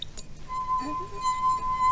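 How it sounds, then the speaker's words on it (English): A wine glass is pinged and rings with a clear sustained tone, lowered in pitch by water added to it; a brief clink starts a steady pure ring. "Let's try putting a bit in, and the tone should drop."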